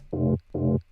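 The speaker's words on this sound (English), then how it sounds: "Here we have then some kind of stab or accent" Two short, identical synth stabs from a future rave drop, filtered of lows and highs and pumped by sidechain, hit in quick succession with a bright mid-range body and a swift swell and fade on each, heard alone.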